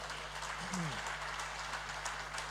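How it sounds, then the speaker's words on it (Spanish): Members of a Spanish-language church congregation applaud in praise after a prayer, a continuous, even patter of many hands at moderate distance, with a brief low tonal sweep near the start. "Dale un aplauso al Señor."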